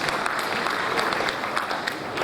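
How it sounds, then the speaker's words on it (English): An audience at a formal awards ceremony applauds, a dense, even roar of many hands clapping continuously at moderate loudness, with no voices rising above it. "Please give yourselves a round of applause"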